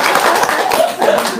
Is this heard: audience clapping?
yes